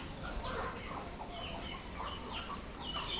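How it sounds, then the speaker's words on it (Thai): Chickens at feeding time, hens squabbling among themselves, clucking and chattering in a dense, continuous jumble close by. "ให้อาหารไก่แบบนี้นะคะ"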